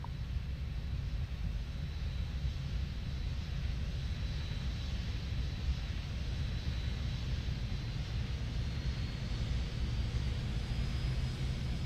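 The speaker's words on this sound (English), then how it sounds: "So there's engine number 2 online. Just wait for that to stabilize out." JARDesign A320 jet engine in the X-Plane 10 flight simulator spooling up and settling into a steady, loud roar with a thin high whine, no speech.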